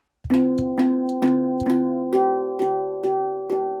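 Handpan melody played in the Music Studio app with a delay effect: about eight clear, ringing metallic notes struck at a steady pace, each tone overlapping the sustained echoes of the previous ones, loud and close with no talking.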